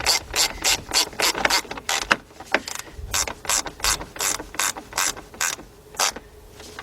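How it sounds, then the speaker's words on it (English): A ratchet clicks in quick, rapid bursts while tightening two 10mm bolts during a timing belt and water pump job on an Acura SLX or Honda Passport, with a brief pause midway, close and loud. "let's tighten these 2 10mm bolts up"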